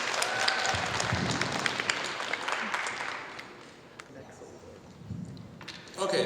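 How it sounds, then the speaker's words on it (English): Applause from a school audience for two student presidents at a student government election debate, a brief scattered clapping burst that fades midway and picks up again near the end, with voices in the room. "Can we get a round of applause for our both presidents?"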